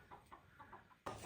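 Hens on a farm cluck in a few soft, scattered calls at a distance, and a sudden loud burst of broadband noise cuts in at the end.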